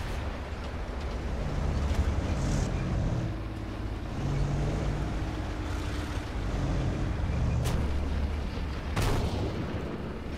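Tank cannon fire in the War Thunder video game against a Tiger II tank, with two sharp, loud gunshots near the end over a constant low engine rumble.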